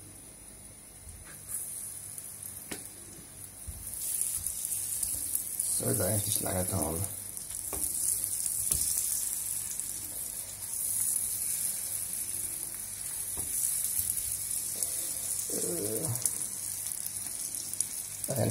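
Turkey mince patties sizzle and fry in a pan with a little sauce, a steady crackling hiss running throughout while someone speaks briefly over it.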